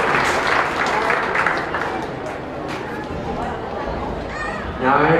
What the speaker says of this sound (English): Let's give these four exhibitors a round of applause.